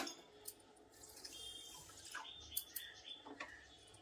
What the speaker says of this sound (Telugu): ఏ గ్లాస్తో అయితే మనం పంచదార వేసుకున్నామో అదే గ్లాస్తో వాటర్ వేసుకోవాలి